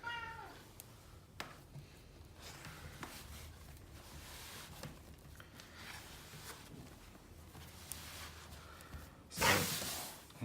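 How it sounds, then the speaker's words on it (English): A house cat meows repeatedly in a kitchen during homemade fondant making, faint and scattered across the scene, ending with one louder, closer meow, with light background clatter and no talk. "And the cat has a lot to say."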